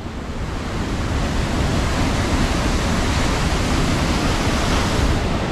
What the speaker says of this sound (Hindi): मैं कैसे देखूँगा इतना बड़ा बड़ा वाटरफॉल